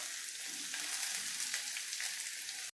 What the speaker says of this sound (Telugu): దీనిని కూడా కొద్దిగా వేయించుకోవాలి.